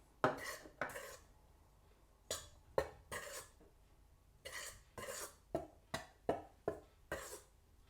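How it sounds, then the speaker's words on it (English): Dry bread-dough ingredients, dried yeast, salt and sugar, are mixed in a bowl, heard as a quiet series of short scraping and clinking strokes of a utensil against the bowl, irregular at first and then in a quicker rhythm. "mix all of the dry ingredients together. So in goes the dried yeast. Mix that in. And the salt and sugar."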